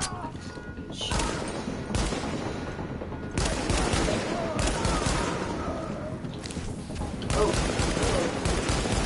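Gunfire in Uncharted 4 comes in loud, dense bursts of rapid shots separated by short lulls, close and sustained across the whole stretch.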